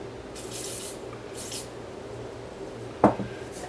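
WD-40 sprays in two short hissing bursts onto cassette deck parts, close and fairly quiet, followed by a sharp knock and a faint clatter.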